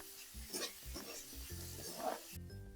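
Pasta masala with capsicum and carrots stirred in a pan, soft rhythmic scraping and light sizzle, close but quiet, several strokes in a row.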